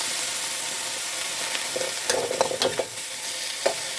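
Okra and egg stir-fried in a pan with oyster sauce and sugar give a steady crackling sizzle, with bursts of spatula scrapes and clatters against the pan near the end.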